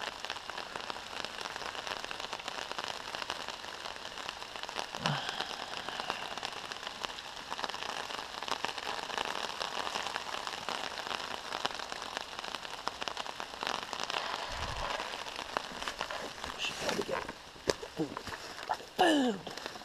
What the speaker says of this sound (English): Really wasn't anticipating rain tonight